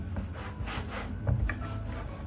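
A knife saws through stale bread in a kitchen, making a dry, rasping back-and-forth scraping with a few crisp crunches, close and fairly quiet.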